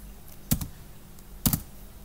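Two sharp key presses on a computer keyboard spacebar, about a second apart, each a close, crisp double click over a quiet background.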